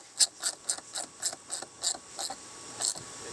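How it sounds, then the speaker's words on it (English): A 5mm Allen key works fender bolts loose on a 2026 Kawasaki Teryx H2 UTV while a Rokblokz fender kit is fitted, giving about ten quick, even metallic clicks and scrapes, close and fairly quiet, with no talking. "So you'll use your 5mm Allen to undo those and tighten those"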